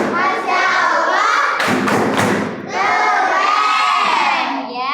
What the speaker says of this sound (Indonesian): Beri tepuk Masya Allah.